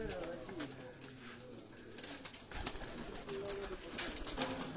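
Pigeons coo softly and intermittently in the distance at a farmhouse, with a few flutters and scattered background chatter around them.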